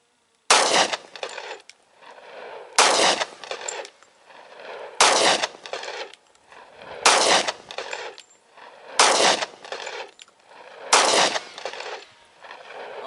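Six sharp, loud gunshots from an S&W M&P Shield 45 pistol firing 200 grain handloaded target rounds, spaced about two seconds apart, each followed by a short echoing decay outdoors.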